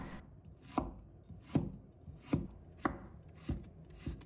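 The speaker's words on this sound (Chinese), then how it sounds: "再改刀切成姜丝" A knife chops peeled ginger into fine shreds on a board: six crisp, evenly spaced cuts, close and clear, with quiet gaps between.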